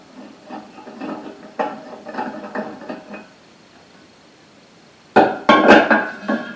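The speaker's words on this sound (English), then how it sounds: "Glass just slides in, pretty easy to change the bulbs." Glass shade being handled and slid into a Hubbardton Forge upward-facing light fixture with a marble part: light scraping and chinking clinks, then a louder cluster of sharp glassy knocks near the end, close and alone.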